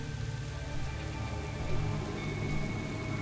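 Steady rain falling around Zandalari characters in World of Warcraft: Battle for Azeroth, a continuous even patter with a low rumbling bed, loud and unbroken throughout.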